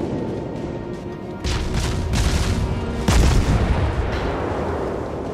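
Heavy naval guns boom in World of Warships, with two loud, deep blasts and explosions rolling over a constant low rumble of sea battle.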